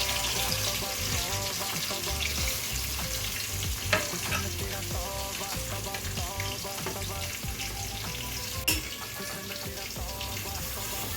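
Grated pumpkin stirred and fried in ghee for halwa, a steady sizzle with scraping stir strokes throughout, a couple of sharper clinks standing out, close and continuous with no voices.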